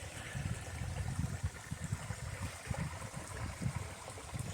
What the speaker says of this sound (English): First little creek crossing of the Appalachian Trail today.